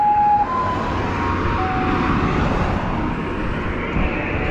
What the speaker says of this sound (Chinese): 这一路过去好多救护车